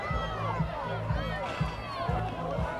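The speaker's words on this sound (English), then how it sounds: "Plenty of shouting going on now for their teams." Rugby crowd at a Hastings West versus Wairoa match shouting and cheering for their teams, a steady near wall of mixed voices with periodic louder bursts under ongoing noise.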